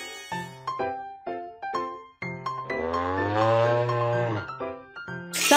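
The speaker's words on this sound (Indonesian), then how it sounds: "Sapi." A cartoon cow gives a long, drawn-out moo partway through, with short plinking melody notes before and after it.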